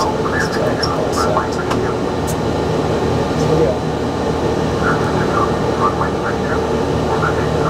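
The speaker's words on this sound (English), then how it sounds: "so we have the throttles fully on" Flight simulator aircraft engines held at full throttle for takeoff, a steady loud roar and hum filling the clip, with a person talking over it.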